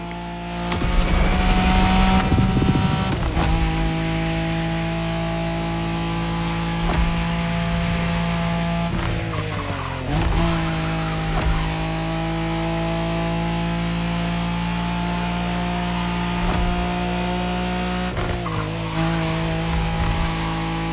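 A Nissan Skyline racing flat out in a Wangan race in The Crew Motorfest: a sustained high-revving engine drone with gear shifts and pitch drops at several points, plus a brief tire squeal near the start.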